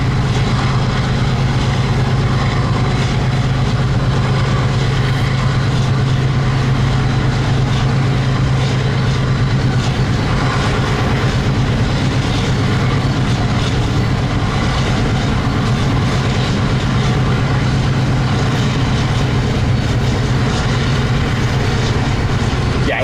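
Freight train led by an MRL SD40-2 locomotive on the Needles Subdivision: a loud, continuous diesel drone and rolling rumble close by, steady for the whole stretch, with no talk.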